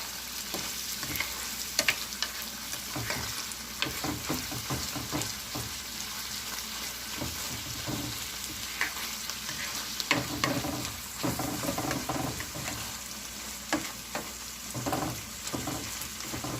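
Ground meat for tortang giniling frying in a pan with salt and pepper, stirred with a utensil: a steady sizzle with irregular scraping and clacking strokes throughout, no talking.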